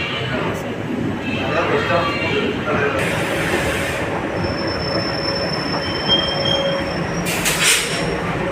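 A train pulling into platform 8 at KSR Bengaluru railway station, with steady loud rumble of rolling wagons, sustained wheel squeal and brief high screeches near the end as it comes to a stop.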